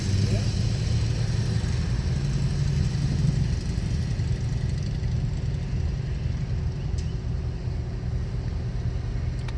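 A 2007 Mercedes-AMG SL55 idles just after a cold start, a deep, steady engine rumble held close and loud with a slight lift in pitch early on, and people talking over it.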